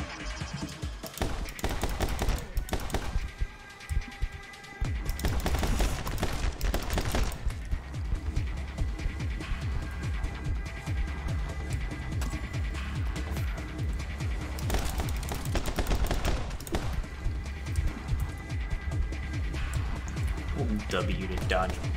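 Gunfire and bullet impacts from the action game My Friend Pedro, with dense rapid shots and bursts layered over loud game music and a voice talking throughout.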